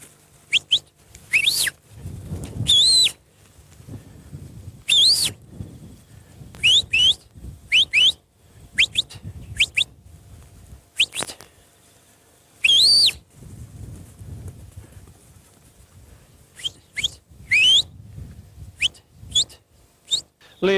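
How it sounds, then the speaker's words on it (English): A shepherd gives sharp, rising guiding whistles to a sheepdog on a run out, short separate blasts repeated at irregular intervals across the field, loud and close, with quiet outdoor background between them. "his guiding whistles for a run out"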